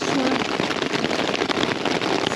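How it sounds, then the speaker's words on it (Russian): Heavy rain pours steadily during a mountain thunderstorm, a dense loud hiss with rough crackling texture filling the scene without pause. "А вот гроза пошла."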